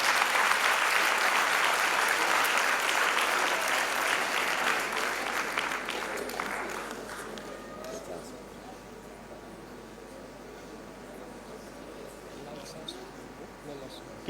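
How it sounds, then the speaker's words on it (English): Sustained applause from an audience at an award ceremony for the West African Examinations Council in Freetown, Sierra Leone, loud and steady at first, then fading to a quieter room with scattered sounds. "A big round of applause."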